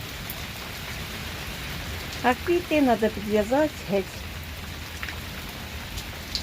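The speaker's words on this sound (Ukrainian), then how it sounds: "Все, перестає дощик." Steady rain falls outside in a village garden, a continuous soft hiss of drops on surfaces. Someone speaks briefly over it, close by.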